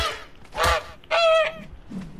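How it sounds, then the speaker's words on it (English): A dodo bird in Ark: Survival Evolved gives loud, close honking calls, two long goose-like squawks followed by a softer trailing note. "the dodo bird."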